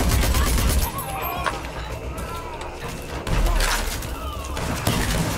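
Pistol in Rage 2 fires in triple bursts as rapid gunshot clusters in a busy game mix, with loud pops near the start and again around the middle, over steady background noise and talk.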